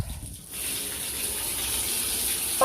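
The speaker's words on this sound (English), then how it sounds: "I need a nice bit of a bubbly bath" Water gushes from a tap into a bathtub being filled for a bubble bath. After a brief quieter start, a steady, close rushing stream continues alone.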